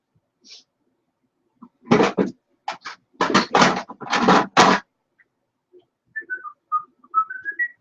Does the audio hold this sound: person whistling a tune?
yes